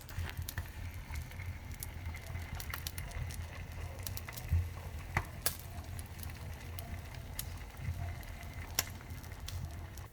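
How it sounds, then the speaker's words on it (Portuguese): Beef ribs roast inside a closed grill, heard as a quiet, steady crackle with scattered sharp pops over a low continuous hum. "vamos ver se vocês conseguem escutar a carne cozinhando lá dentro"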